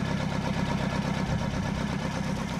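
An old engine that had sat unstarted for seven years, revived after a battery charge, idling with a steady, even rumbling chug, close and alone.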